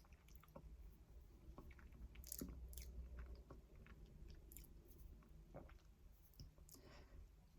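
Quiet, close chewing of a biscuit or cookie, with soft crunches, small clicks and moist mouth sounds scattered irregularly over several seconds, no talking.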